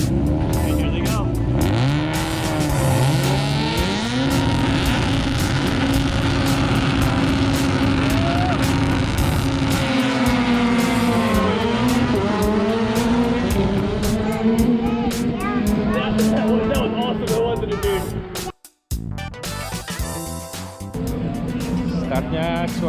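RX2 rallycross race cars launch from the start at ARX St. Louis, a loud roar of several engines revving and climbing in pitch through gear changes, with a brief cut near the end and continuous talking underneath.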